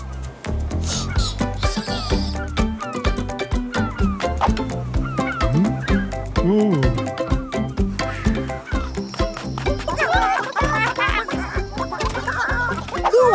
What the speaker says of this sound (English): Moo's chickens are standing next to Maymay